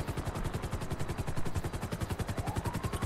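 A helicopter in GTA 5 chops overhead with rapid, regular rotor thumps at a strong, steady level, alone and continuous.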